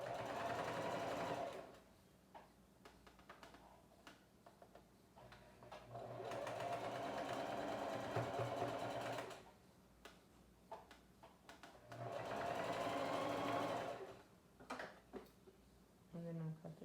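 A sewing machine stitches elastic onto a reusable fabric face mask in three close, sustained bursts of fast whirring and needle ticking, separated by pauses with light handling noises.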